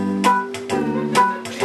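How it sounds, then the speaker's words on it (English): Electronic keyboard plays a country and western style riff live on a comedy stage, with bright twangy chords struck in a loping rhythm of about four accented hits, loud and close. "To me, country and western always sounds like this."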